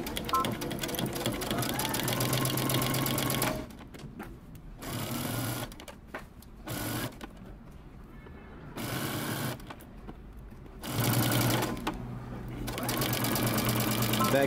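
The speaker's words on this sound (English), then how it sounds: "we're going to stitch using 5/8 of an inch seam allowance all the way down" A sewing machine stitches a 5/8 inch seam on a men's fitted shirt, with a long steady run of fast, close needle chatter, then a series of shorter start-stop bursts and a final longer run; a voice talks between bursts.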